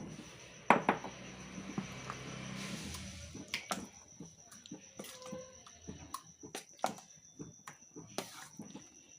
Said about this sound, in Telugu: ఇప్పుడు దీన్ని మనం ఒక బౌల్లోకి ట్రాన్స్ఫర్ చేసుకుందాం.